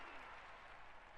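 Stadium crowd applause in the London 2012 Olympic video game, a steady, fairly faint wash of clapping and cheering sustained throughout.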